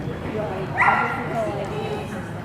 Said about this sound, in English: Nice border collie here.